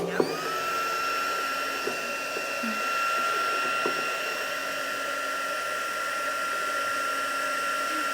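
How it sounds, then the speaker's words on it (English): A hair dryer blows steadily up close on a painted art journal page, a constant whirring hum with a high tonal whine that lasts throughout, plus a few faint handling knocks. "I'm just going to dry it off slightly so we can work on the next layer."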